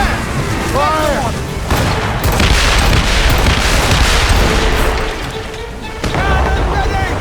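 Ship cannons in Assassin's Creed Rogue boom repeatedly during a naval battle, heavy blasts and rumbling impacts layered over game music and shouted crew voices.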